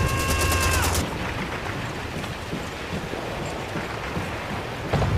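Call of Duty battle gunfire in a house-clearing mission: a dense crackle of shots and rumbling blasts, fairly loud and continuous, after an opening tonal alarm-like whine, with a sharp burst returning at the end.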